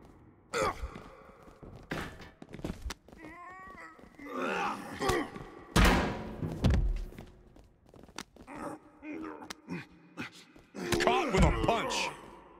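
Wrestling impacts and takedowns from WWE 2K24, including a fireman's carry takedown in a multi-team match: scattered thuds and slams between bursts of crowd noise and grunting, with commentary voices talking throughout.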